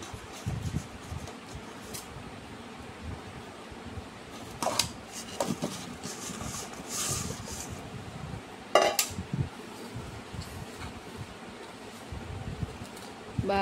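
Mango pickle pieces stirred into a spice and peanut oil mix in a home kitchen, with intermittent clinks of a spoon against a metal bowl and soft scraping and mixing sounds, close but fairly quiet.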